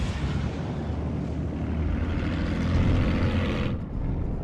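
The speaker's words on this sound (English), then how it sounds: "Babarusa sounds very cool actually when it starts up." Engine of a Babarusa vehicle in the WARNO war game turning over and rumbling up to a steady low drone, loud and close, with no talk.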